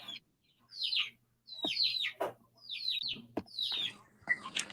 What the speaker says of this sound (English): I like hearing the little cheep, cheep, cheep, cheep, cheep, cheeps.